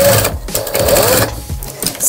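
Sewing machine loudly stitching two fabric pieces of a tiger-shaped cushion together, running in short rattling bursts with brief pauses between runs.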